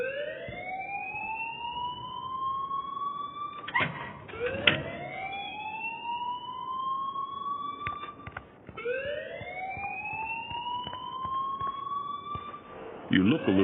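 A repeating electronic alarm in the video game Life Is Strange wails in rising sweeps, three long upward glides that each level off, with brief thumps and clatter between cycles and voices talking faintly underneath.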